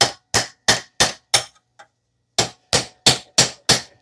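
A hand hammer strikes the rear differential mount bushing of a 2015 Toyota Sienna 3.5 V6 AWD in sharp, evenly spaced metallic blows, five hits, a brief pause with a faint tap, then five more, close and loud.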